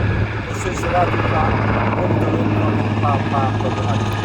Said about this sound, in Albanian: Tani po ndërhyn helikopteri, ha?